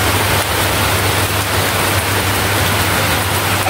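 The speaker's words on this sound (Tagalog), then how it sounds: "Malakas yung ulan mga idol. Ang lakas ng ulan po." Heavy rain pours down in a loud, dense, unbroken hiss under a low steady hum, with no voices.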